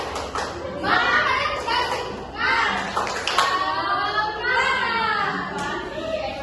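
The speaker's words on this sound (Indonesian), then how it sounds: "kita tepuk semangat dulu, tepuk semangat" Schoolchildren in a classroom doing a rhythmic group spirit clap, bursts of patterned claps mixed with lively kids' chanting and voices close by.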